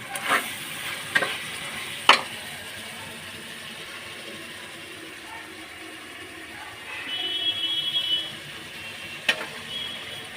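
Food sautéing and sizzling in a pan while being stirred during home cooking, a steady low fry with a few sharp clinks of the utensil against the pan, then a brighter hiss of frying toward the end.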